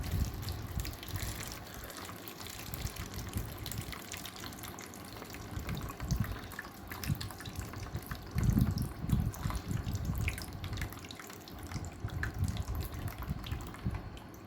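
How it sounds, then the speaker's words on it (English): Water gushing and splashing steadily from holes in a bottle for the whole stretch, a continuous close stream with a few louder surges, no voices. "now let's release this tape and see what will happen."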